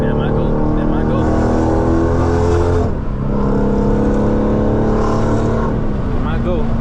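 Straight-piped Dodge Scat Pack accelerating hard on a freeway in a video game, a loud continuous engine roar with rising and falling revs and a brief dip around the middle, steady and close throughout.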